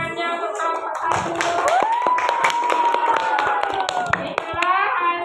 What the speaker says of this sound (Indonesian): Iya, boleh tepuk tangannya untuk kelompok 1.